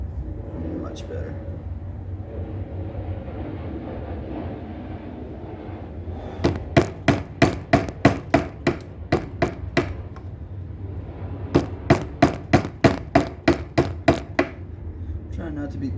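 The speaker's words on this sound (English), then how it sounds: "Try not to be too aggressive with the chisel" Chisel cutting wood during a bass guitar build: two quick bursts of sharp, rhythmic tapping strikes, about ten each, sounding close over a low background hum.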